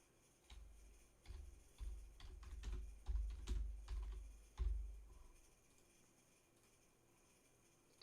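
Keys clacking on a computer keyboard in bursts, with short pauses between them and a long pause near the end. The typing is close and moderately loud, and no one speaks.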